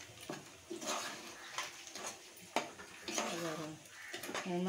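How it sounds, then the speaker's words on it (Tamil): A spoon stirs native chicken curry in a metal cooking pot, giving a few scraping clinks and knocks against the pot, with a voice speaking quietly underneath. "இந்த மாதிரி கிண்டி விட்டுட்டு"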